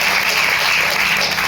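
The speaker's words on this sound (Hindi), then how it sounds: "एक जोरदार ताली" A crowd claps loudly and steadily at an indoor school gathering, the dense applause filling the whole moment without voices.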